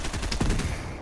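Gunfire in a video game comes as a short, loud, rapid burst of shots at close range, with no pause across the brief moment.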